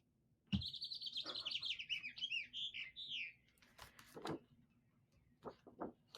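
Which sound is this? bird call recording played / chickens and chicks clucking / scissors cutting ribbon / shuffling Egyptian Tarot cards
bird call recording played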